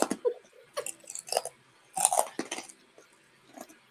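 Crisp crunching of fried pork skins being chewed close to the mouth, several bursts of crackling bites in an irregular rhythm with short pauses between.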